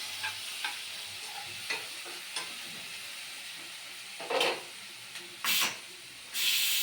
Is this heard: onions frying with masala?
yes